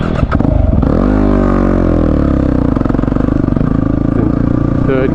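A motorcycle engine on an off-road track runs loud and close in third gear. After a brief clatter it settles into a steady, throbbing drone with rising and falling pitch.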